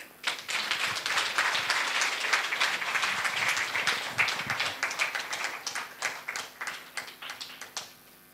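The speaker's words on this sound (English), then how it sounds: "Let's give her another round of applause." Sustained applause from an audience at an International Women's Day dinner, a dense wash of clapping that holds steady and then thins out toward the end.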